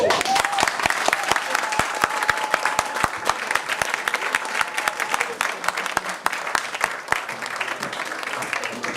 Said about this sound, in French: écoutez les applaudissements de chez nous